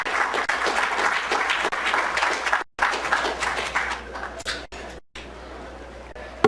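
Audience applause at a Dallas city planning conference, a dense burst of clapping that fades briefly, resumes, then tapers off toward the end, with no talk over it.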